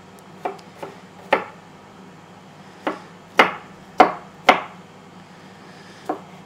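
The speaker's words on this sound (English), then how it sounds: "So the bits I just trimmed off, I'll just cut into little cubes for my stir fry." A knife chops trimmed bell pepper pieces into small cubes on a cutting board: about eight sharp, separate knocks at an uneven pace, close and clear against a quiet background, with no speech.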